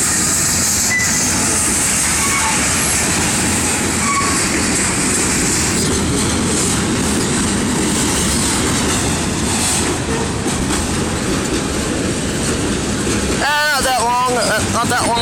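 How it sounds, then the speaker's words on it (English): A Canadian National freight train rolls through a level crossing in Effingham, Illinois, a loud continuous rumble and clatter of wagons throughout, with a brief tonal squeal or horn-like sweep near the end. "Not that long of a train"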